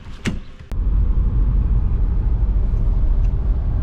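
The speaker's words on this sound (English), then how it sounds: "I'm gonna take this car for a little drive and we'll see if it's leaking." An Audi A4 out on a short test drive, with a brief clunk and click at the start, then a steady low road and engine rumble from inside the car that holds constant to the end.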